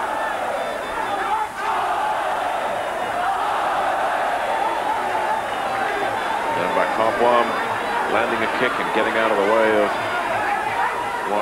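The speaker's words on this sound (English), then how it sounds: "Getting applause from the crowd." A crowd at a Muay Thai fight roars and shouts throughout, a steady wash of cheering and voices with rising yells toward the end, and no clear clapping stands out.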